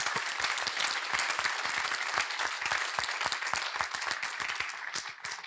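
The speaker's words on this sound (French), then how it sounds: "qu'on peut applaudir" Audience applause at a climate and biodiversity debate in a hall, after three speakers are thanked: dense, steady clapping from a sizeable crowd that holds at an even level throughout, with no voices on top.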